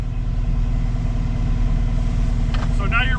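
A Cat 259D3 mini track loader's engine runs at a steady, low throbbing idle close by, with a person talking over it near the end.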